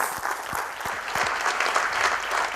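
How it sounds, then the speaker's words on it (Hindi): Loud, steady applause from a workshop audience fills the room as they are welcomed, a dense wash of many hands clapping close by with no pause. "तो जोरदार तालियों के साथ आप सभी का स्वागत करते हैं।"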